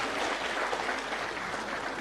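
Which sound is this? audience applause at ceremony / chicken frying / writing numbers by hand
audience applause at ceremony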